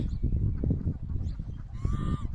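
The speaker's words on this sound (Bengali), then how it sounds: "ওরে বাবারে, এই যে দেখেন নদীতে হাঁস।" A single nasal quack-like call from ducks on a river comes near the end, standing out over steady low rumbling from wind and footsteps.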